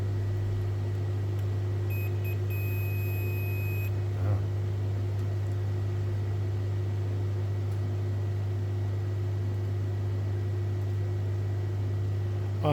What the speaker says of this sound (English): Going into beep mode.